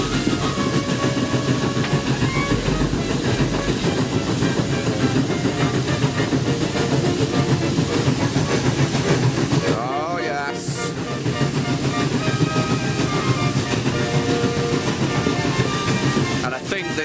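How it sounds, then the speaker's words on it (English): Steady, loud rumble and rhythmic pounding of a three-cylinder steam locomotive working hard uphill nearby on the Kent and East Sussex Railway at Tenterden, continuous throughout with a brief dip midway; a voice speaks faintly underneath. "This chuffing echoes throughout Tenterden every time a train comes up here."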